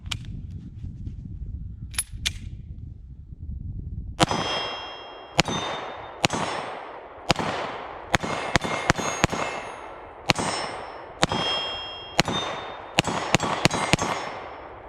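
Sig P365-XMACRO pistol shots ring out in a steady string of about a dozen sharp reports, each followed by a bright metallic ping from steel targets, loud and close outdoors.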